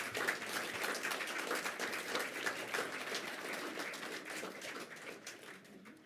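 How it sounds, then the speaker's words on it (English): An audience at a nursing and midwifery public forum gives a sustained round of applause, dense overlapping clapping that holds steady for several seconds before gradually thinning and fading toward the end, with no talking over it. "Ladies and gentlemen, let's give them another round of applause."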